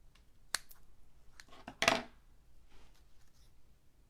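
Scissors make a few sharp snips, cutting a piece of faux kitchen backsplash material in half, with a louder crunching cut near the middle, close and quiet, alone without talk.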